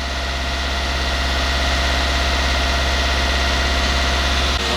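A diesel engine in an Opel Vivaro van idles steadily and loudly at low revs after being revved, a constant deep drone with a slight vibration, cutting off abruptly near the end.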